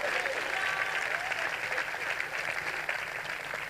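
Sustained applause from a congregation during a Punjabi-Urdu Christian sermon, a dense steady clatter of many hands filling the whole stretch at even loudness with no talk over it.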